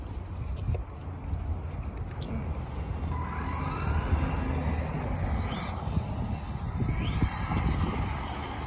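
A Tamiya Ford GT MkII TT02 RC car runs on flat tarmac, its electric motor whining in rising sweeps as it speeds away and passes, steady outdoor background throughout.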